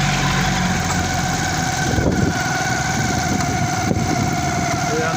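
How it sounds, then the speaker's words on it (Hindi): A motorbike engine running while riding through a colony at night around 11 pm, a loud continuous rumbling hum with road noise and no talking. "अब मैं बाइक पे आवारा घूम रहा हूँ।"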